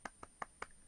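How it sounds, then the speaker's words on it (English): Four slow, sparse hand claps, a polite golf-style clap, sound close and evenly spaced with nothing else around them. "Golf clap"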